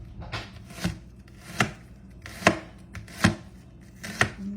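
A large onion is cut with a knife on a board, about seven distinct, close chopping thuds at a slow, fairly regular pace, alone with no talking.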